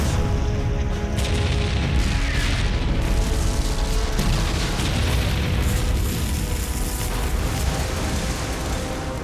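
German guns firing on landing tanks at Normandy during World War II: a continuous, dense roar of booming explosions and artillery, loud and unbroken, with no talk.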